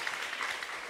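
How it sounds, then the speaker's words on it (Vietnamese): Steady audience applause at a Vietnamese business talk, a dense even patter of many hands clapping without a break through the short span. "Cho hội một tràng pháo tay thật lớn cho anh Long"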